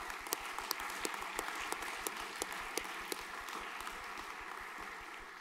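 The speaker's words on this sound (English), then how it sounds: "Round of applause." A crowd at a junior school graduation claps steadily, a dense even wash of applause heard from a moderate distance, with a few sharper claps standing out.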